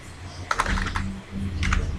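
A few quick keystrokes on a computer keyboard, close and fairly soft, in two short clusters over a low background hum.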